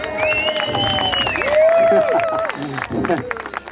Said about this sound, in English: Everybody give Brandon another round of applause.